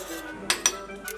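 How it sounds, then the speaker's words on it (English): Utensil stirring vinegar with salt and sugar in a bowl during a spot prawn recipe, giving two or three sharp clinks of metal against the dish over a quiet room. "Stir vinegar."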